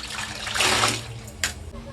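Water sloshes and splashes in a basin as wigs are washed in conditioner-laced water, with a brief louder splash near the end and a faint voice in the background.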